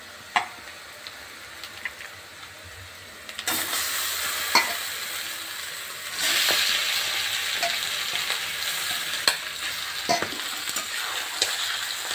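Duck meat added to a pan of oil with onions fried deep red and salted, bursting into loud steady sizzling that swells as the meat hits, with occasional sharp clicks of a utensil against the pan.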